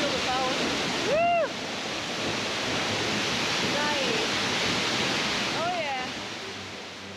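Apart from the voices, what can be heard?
waterfall rushing in Triglav National Park, Slovenia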